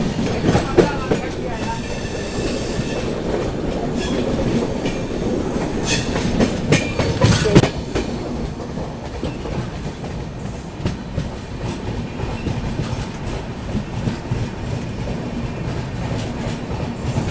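The 22412 Arunachal AC Superfast runs through Mansi Junction without stopping during heavy rainfall, with a loud, continuous rumble and rhythmic wheel clatter that stays steady throughout, with occasional sharper rattles.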